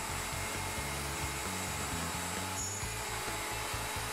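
A router cuts a tenon on a Leigh FMT mortise and tenon jig, running counterclockwise in a steady, loud, continuous whine with a slightly wavering pitch and no speech.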